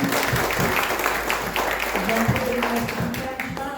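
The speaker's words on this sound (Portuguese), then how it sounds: "Vamos aplaudir ao Senhor." A church congregation applauding during a worship service, dense clapping spreading through the room with scattered voices and a speaking voice over it.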